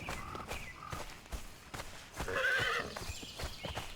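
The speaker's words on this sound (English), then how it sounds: "Somebody is fighting the horse." A horse in the video game Conan Exiles whinnies loudly while its hooves clop in an uneven walking rhythm, close by and with no talk over it.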